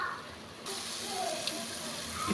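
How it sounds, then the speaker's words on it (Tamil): Water poured into a cooking pan of sautéed masala for chicken biryani gives a close, steady gushing splash with a faint sizzle. The rush swells after a brief quieter start and continues for a couple of seconds. "ஒரு கிளாஸ் அளவு தண்ணி சேர்த்து நல்லா கொதிக்க வச்சுக்கலாம்"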